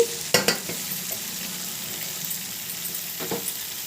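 Boiled, cut potatoes tumble into a frying pan for an aloo-peas kurma, two quick thumps followed by a steady, even sizzle and light stirring, with no one talking.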